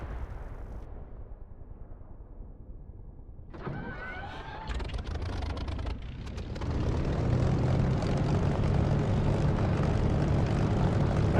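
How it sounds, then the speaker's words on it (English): An aircraft engine spinning up in the DCS flight simulator: a low rumble gives way to whining starter tones and clicks, then the engine catches and settles into a steady, louder broadband roar that builds to the end. "start up, crack the throttle"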